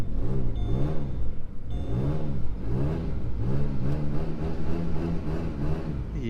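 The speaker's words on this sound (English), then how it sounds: "hear that exhaust leak?" A car engine puffs and putters in a rough, rhythmic pulse with a leaky exhaust note, rising and falling steadily while driving.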